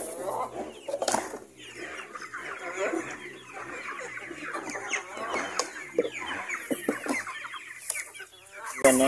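Free-range chickens cluck and chatter close by in a yard, a busy, irregular stream of short clucks and squawks from several birds, with a louder call near the end.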